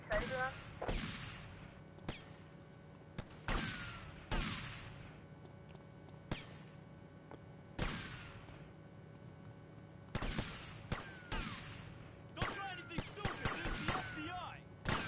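Gunfire in the video game GTA Vice City: repeated sharp gunshots, single and in short bursts, spread across the clip with game background sound and some talk between shots.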